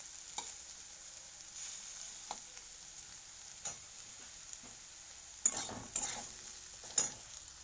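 Chandramukhi potatoes, browned and softening, fry in a pan with a steady low sizzle, broken by a few sharp spatula clicks and scrapes, louder toward the end; no one speaks.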